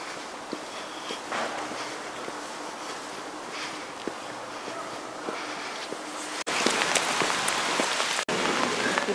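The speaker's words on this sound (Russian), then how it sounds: "Дождь гремит." Heavy rain pours steadily outdoors, a dense hiss with scattered drips and patters, growing louder and closer partway through.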